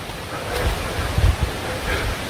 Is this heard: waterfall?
yes